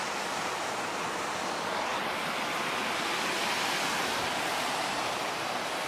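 Wild water waves surge and break in a steady, loud roar of surf, a continuous wash of white noise with some wind buffeting the microphone and no talking.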